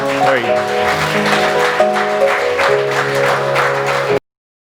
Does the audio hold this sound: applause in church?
yes